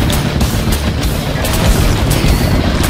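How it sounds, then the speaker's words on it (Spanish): Explosions from the video game Iron Meat: loud repeated booming blasts with crackling debris, a dense, continuous barrage of impacts with no speech. "La explosión no me había dejado ver bien."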